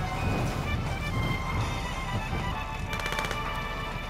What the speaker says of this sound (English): Someone shooting, but not at us